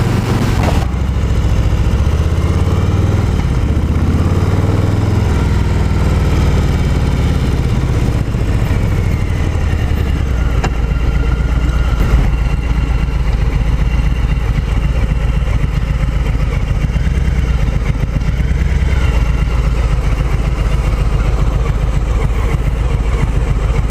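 A 2018 Harley-Davidson Low Rider motorcycle idles steadily up close, its deep, lumpy engine rumble continuous and loud throughout with no talking over it.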